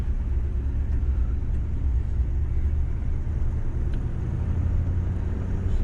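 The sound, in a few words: 1968 Chevrolet Impala engine while driving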